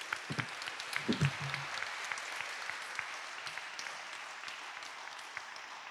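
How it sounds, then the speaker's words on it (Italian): A crowd at a comics convention panel in Lucca applauds steadily for several seconds, the clapping dense and fairly even, with a few louder claps near the start. "un applauso a Fabrizio."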